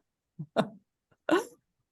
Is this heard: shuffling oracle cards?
no